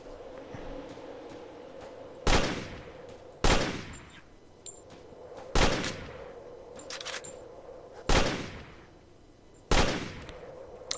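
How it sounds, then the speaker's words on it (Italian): Gunfire in the Drive 4 Survival game as a rifle is fired and then a pistol, six loud, evenly spaced single shots a second or two apart over a steady humming background. "vediamo un po' se riesco a sparare con questo e poi passare alla pistola"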